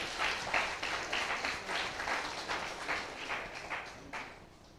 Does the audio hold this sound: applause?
yes